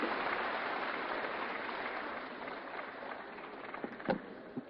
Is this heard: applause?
yes